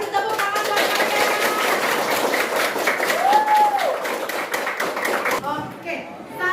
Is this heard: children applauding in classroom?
yes